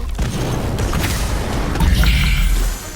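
An Incendio fire spell in Harry Potter Magic Awakened bursts as a loud, rushing whoosh-boom that swells for a couple of seconds, then cuts off.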